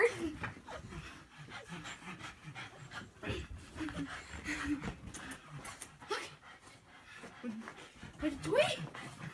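Several excited dogs whimper, yip and pant while scrapping over a toy, their noises coming in close bursts throughout, with a person talking and exclaiming over them.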